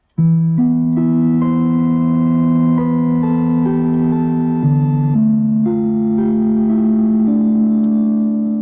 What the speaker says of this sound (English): if I go down to the sine wave, then I'm going to get more of a steel string guitar sound.